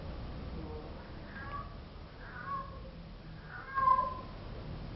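A kitten meows a few times at moderate distance, short faint cries over steady background noise, with the last call louder and longer.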